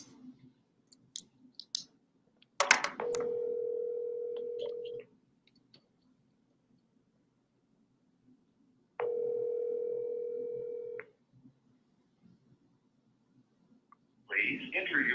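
Outgoing telephone call placed from a wholesaling boiler room: two long steady ringback tones separated by silence, preceded by clicks and quiet room noise, no answer.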